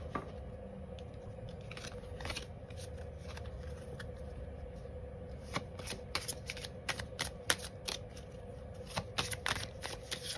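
Tarot oracle cards are shuffled by hand in a continuous, close riffling patter, with crisp snapping flicks growing denser toward the end.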